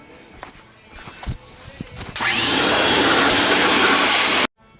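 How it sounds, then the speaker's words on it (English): A power washer blasts mud from the underside of a drift car. Brief footsteps and handling come first, then a loud, steady spray roars on for a couple of seconds and cuts off abruptly. "So let's go break out the power washer."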